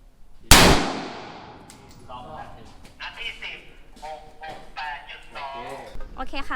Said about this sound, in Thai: ปืนพร้อมเครื่องพร้อมยิง